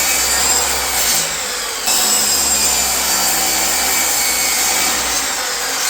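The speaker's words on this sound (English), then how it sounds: "I'm gonna cut them all at the same time on the miter saw" A miter saw cuts through a stack of six wooden boards with a loud, continuous whining buzz, briefly easing off in the middle before bearing down again, close and alone.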